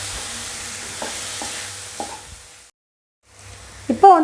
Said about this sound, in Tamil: லைட்டாக கிளறி விட்டா.